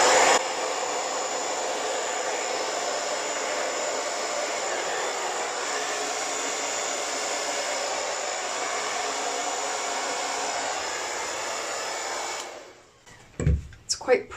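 A hair dryer blows acrylic paint colours across a Dutch pour canvas, a steady loud continuous whoosh for about twelve seconds that cuts off abruptly, followed by brief speech.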